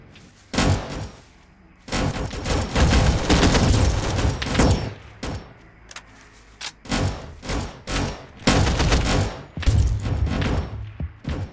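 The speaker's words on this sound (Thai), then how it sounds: "ไอปืน M4 นี่มันยิงมันจริง ๆนะ" An M4 rifle fired in a Roblox game, loosing loud, close bursts of automatic gunfire separated by short pauses, with around six distinct volleys over the span.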